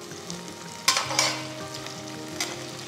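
Onions sautéing in a pan for arisi paruppu sadam, with a steady close sizzle broken by a few sharp scraping strokes of a spatula near the start and once more later, no talk.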